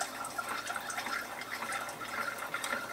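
A Keurig coffee maker on its last legs brews, with water filling and trickling in a soft, steady gurgle and occasional faint drips, fairly quiet and close, with no talking.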